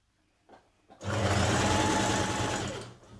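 A sewing machine runs in one steady, loud burst while stitching the darts of a New Look 6145 spring dress, starting after a couple of faint taps and slowing to a stop near the end.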